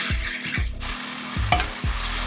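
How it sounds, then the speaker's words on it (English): Costco Kevin's Natural Foods paleo Korean BBQ style beef stirred in a pan with sauce, steady close sizzle broken by several scraping knocks of the spoon against the pan, no voices. "So we're gonna stir it a little"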